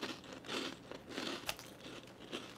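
Crunching bites into spicy dill-flavored pork rinds (chicharron), a few crisp, crackly bursts spaced through a short close-up stretch with no talking.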